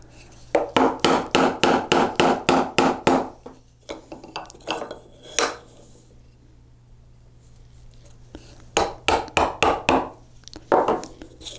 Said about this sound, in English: we'll just chisel about halfway, and then we will flip over